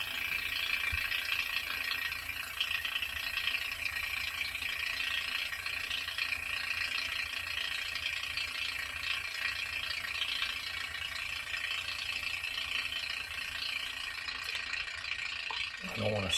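A 1940 Frigidaire refrigerator compressor runs while being charged with refrigerant, giving a continuous rattling mechanical whir with a steady hum that holds evenly from start to finish.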